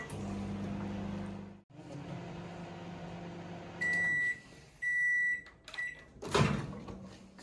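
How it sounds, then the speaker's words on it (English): A microwave oven running on 360-watt power plus grill combination hums steadily for a few seconds, then its door clunks and it gives several sharp electronic beeps before a final rustle. "here I have used microwave 360 power plus grill combination for 3 minutes"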